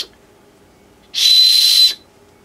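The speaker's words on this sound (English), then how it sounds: "It's got a whistle built in." A single short, shrill blast from a whistle built into the fire steel or sharpener of a Sheffield Rogue knife, sharp and clear, lasting under a second against near silence.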